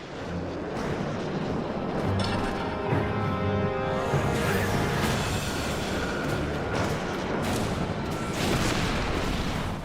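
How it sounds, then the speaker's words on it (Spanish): A big explosion in the New Mexico desert, heard as a sustained, heavy rumbling roar with deep booming layers that stays loud and dense for the whole stretch, with no voices present. "Se supone que la historia de ovnis más famosa de todos los tiempos empezó con una gran explosión en el desierto de Nuevo México"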